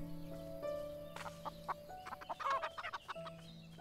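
A hen clucks in the farming video game Everdream Valley, a few short close clucks over soft background game music, with no talking.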